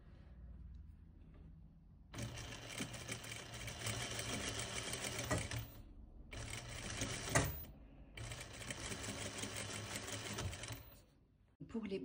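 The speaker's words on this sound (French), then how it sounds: "Donc là, nous piquons à 1 cm." A sewing machine stitches fabric pieces together in three long, steady runs broken by short pauses, a close rapid whirring hum with someone talking quietly in French before it starts.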